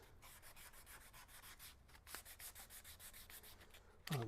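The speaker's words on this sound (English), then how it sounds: "when I'm sanding the sides." Rhythmic back-and-forth rasping of a sanding block on wooden guitar X-braces, quiet and close, with a short scrape at the end.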